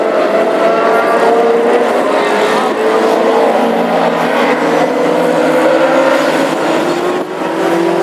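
Classic hot rod cars race at Hednesford, their engines roaring loud and continuous as several pass and overlap, with rising and falling whines from engines revving through the pack.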